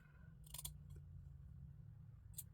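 Scissors snipping through fabric along a two-piece garment's shoulder line while trimming a neckline, a short double snip followed by a single faint one later, over a steady low room hum.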